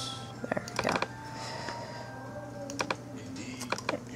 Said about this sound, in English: type in your IP address